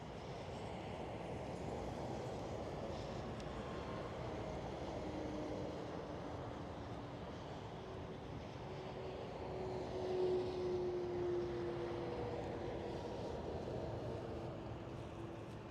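A jet airliner landing at Amsterdam Schiphol, heard as a steady, distant low engine rumble with a faint rising whine partway through, spread over a long continuous stretch with no talk.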